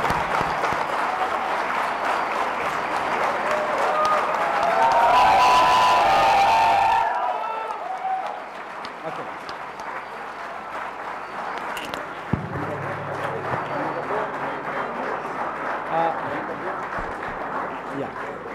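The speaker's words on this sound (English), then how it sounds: "Give them a big applause." At a university convocation ceremony, a large audience applauds the graduating class with sustained clapping, cheers and whoops that swell loudly, then drop away abruptly into quieter hall ambience with scattered claps and murmuring voices.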